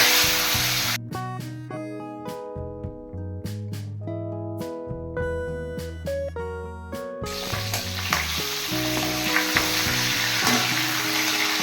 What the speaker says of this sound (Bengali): এবার মাছের মাথাগুলো তেলের মধ্যে ভেজে নেব।